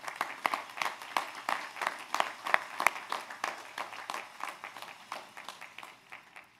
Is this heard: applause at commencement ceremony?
yes